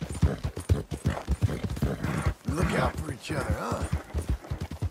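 A horse's hooves clip-clop with an occasional whinny while riding in Red Dead Redemption 2, mostly buried under a man's close, steady talking throughout.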